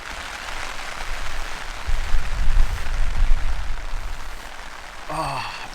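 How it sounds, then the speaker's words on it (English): Heavy rain drums on a tent and tarp in a steady, dense patter that swells louder midway, close and continuous, with no talking. "Listen to this rain."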